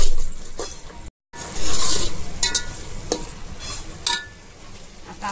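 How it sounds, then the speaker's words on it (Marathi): Red chili powder being stirred into a biryani spice mixture for egg biryani, with scraping and stirring strokes and light clinks against the vessel, heard up close. The sound drops out for a moment partway through. "त्याच्याला आता आपण एकत्र करून घेऊया मिक्स छानपैकी असं मिश्रण करून घ्यायचं आहे."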